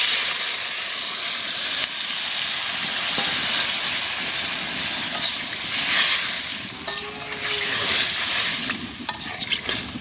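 Water poured into a taro curry frying in a pan, a loud steady sizzle and hiss with stirring scrapes running throughout, close and continuous, with no voices.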